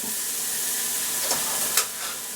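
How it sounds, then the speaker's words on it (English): Onions and smoked sausage sizzling in a pan for a stew, a steady close hiss of frying with a couple of brief scraping stirs near the end. "the onions have been cooking with the sausage for about 2 or 3 minutes"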